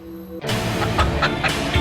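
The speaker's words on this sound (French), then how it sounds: "Et j'ai vu quelques poules dans le coin." Chickens cluck in a forest on an island, a steady run of short, close clucks repeating over a constant outdoor background.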